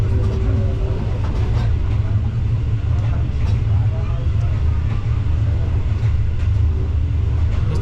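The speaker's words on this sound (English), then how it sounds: "The train is not traveling at its maximum speed." A train running along the line on the route between Ethiopia and the border, its loud, steady low rumble filling the whole stretch without pause.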